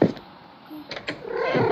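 A cat in a video game gives a short meow amid soft in-game noises, lasting under two seconds, with a faint voice in the background.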